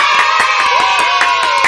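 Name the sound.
applause, clapping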